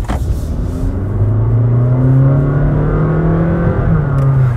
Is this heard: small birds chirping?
no